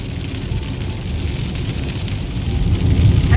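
Heavy rain beats on a moving car while driving in Canmore, Alberta, near the Rocky Mountains, a steady dense hiss with road rumble building toward the end.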